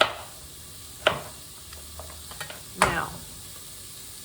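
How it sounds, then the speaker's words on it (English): Onions sizzling in a soup pot for cabbage soup, a soft steady frying hiss broken by a few sharp scraping stirs of a utensil against the pot; a voice speaks briefly at the start. "I'm going to give the pot a stir, those onions."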